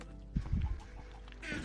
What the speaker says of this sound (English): Oh, we have two new chickens, so one just ran away.